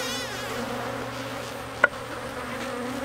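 Honey bees buzzing around an open hive during an inspection, a steady close drone with no talking and one brief sharp click partway through.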